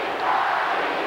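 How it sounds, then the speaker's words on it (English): Wrestling arena crowd during a WWF tag match with Hulk Hogan and Roddy Piper facing Kamala and Paul Orndorff, a brief, dense wash of many voices cheering and yelling at moderate volume. "And listen to this crowd"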